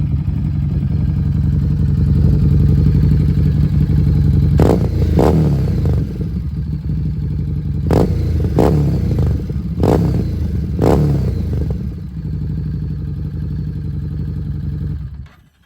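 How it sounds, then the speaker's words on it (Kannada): A Harley-Davidson Street 750 fitted with a Vance and Hines exhaust idles with a deep, steady rumble, then is revved in several sharp throttle blips before settling back and cutting off at the end. "ಇವಾಗ ಸ್ವಲ್ಪ ರೇವ್ ಮಾಡ್ತೀನಿ."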